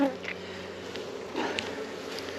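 Honey bees buzzing around a hive during honey extraction preparation, a soft steady hum with faint individual bees droning past close by, quiet throughout.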